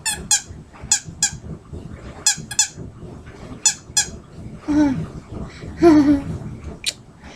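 A squeaky dog toy squeaks in quick pairs, several times in a row, close and sharp, with some chewing and a soft voice in between.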